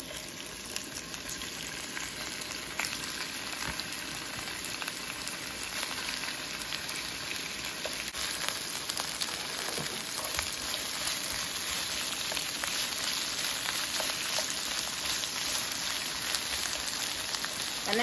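Shrimp fry in a hot pan for Creole bruschetta, making a dense, even sizzle that holds steady throughout with faint crackles and no voices.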